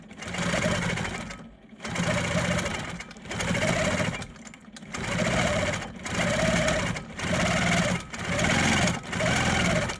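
A longarm quilting machine stitches a hexagon free-motion design in seven rapid, whirring bursts of about a second each, separated by short pauses, steady and close.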